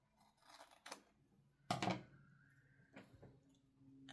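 Something is cut off by hand with scissors, heard as a few quiet snips and rustles, with one sharper close cut in the middle and nobody talking.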